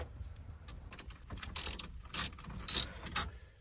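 A small ratchet backs out 7mm screws holding the radio in a Ford F150 truck dash. Quiet, close clicking comes in a few short bursts of ratcheting with brief pauses, and no one talks.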